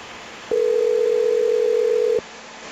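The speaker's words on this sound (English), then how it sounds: "you hear my phone call ringing" A phone line rings during a live call test on an SD-WAN box: one steady electronic tone starts abruptly, holds loud and unbroken for under two seconds, then cuts off, with faint background hiss before and after.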